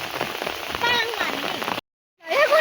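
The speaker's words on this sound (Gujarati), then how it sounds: "બહુ વરસાદ આવ્યો, બહુ વરસાદ આવ્યો છે." Heavy monsoon rain pouring down in a flooded village, a dense steady hiss of drops on surfaces with a voice talking over it, briefly cut off before returning.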